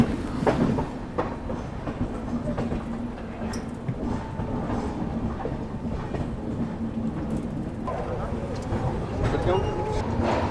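The New Delhi–Dehradun Shatabdi express passes close by as a steady loud rumble with rhythmic clatter of wheels on rail joints, continuous throughout.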